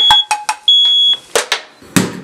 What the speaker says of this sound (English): don't stop cooking until you hear your smoke alarm